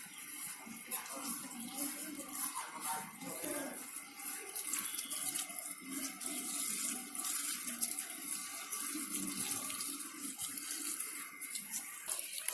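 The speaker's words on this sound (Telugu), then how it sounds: "మొక్కలకి వాటర్ కూడా వేయడం అయిపోయిందండి" Water runs steadily from a hose onto garden plants, a continuous splashing flow at moderate distance with faint background noise and no speech.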